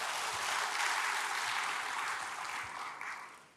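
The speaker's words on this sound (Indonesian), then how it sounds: "Yang mau berikan tepuk tangan bagi Tuhan." Church congregation applauding together, a steady dense wash of clapping that stays loud for several seconds and tapers slightly toward the end, with no talk over it.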